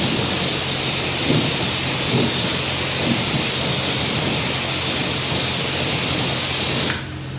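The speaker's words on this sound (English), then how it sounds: "Now we're going to power wash, rinse the wheel and tire." A power washer rinses a car wheel and tire with a loud, steady hissing spray that runs continuously and then cuts off abruptly near the end.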